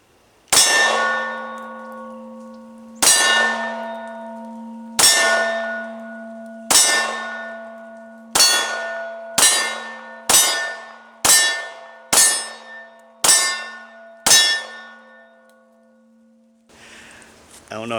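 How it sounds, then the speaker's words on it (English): Rounds from a Glock 19 Gen 5 pistol striking a steel target: about ten loud, ringing metallic clangs at an uneven pace, each leaving a long bell-like decay that overlaps the next. "the splatter for these things hitting that steel target just obliterated that sticker on front of it"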